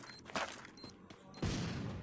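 Gunfire in the mobile battle royale game Free Fire: a loud clatter of shots in uneven bursts, ending in a sustained heavy volley, with no talk over it.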